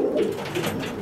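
Pigeons cooing in a loft, a steady low murmuring coo running continuously through the short stretch at close range, with no talk over it.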